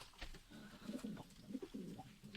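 Soft, low cooing of pigeons, several short throaty coos repeating close by and fairly quiet.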